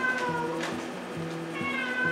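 A cat meows a couple of times in the background, drawn-out wavering cries at moderate volume indoors.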